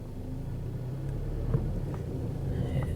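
Mazda RX8 idling and then put in gear and creeping forward, a low steady engine rumble with a few faint clunks and knocks on top as it begins to move.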